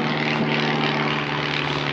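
A propeller airplane drones steadily and loudly nearby, its engine hum constant throughout with no talking.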